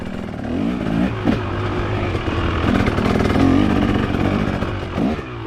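A dirt bike rides along a trail, its engine revving and droning loudly up close with rising and falling throttle and some clatter.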